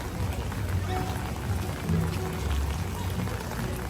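Rain falls steadily at a Magic Kingdom Halloween party, a constant pattering hiss with soft low rumbles and faint crowd murmur beneath, moderately loud and continuous.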